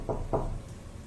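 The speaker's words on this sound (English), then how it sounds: "there was a knock at the door." Two quick knocks on a door, evenly spaced and fairly close, followed by quiet room tone with no voices.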